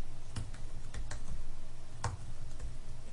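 Keys click on a small, compact computer keyboard used with an Apple Mac Pro, a light, uneven patter of taps with a few sharper strikes, close and quiet with no talking.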